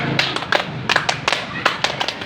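A class of students performs the tepuk semangat clapping chant, a rhythmic series of sharp hand claps in quick bursts mixed with children's voices in a classroom.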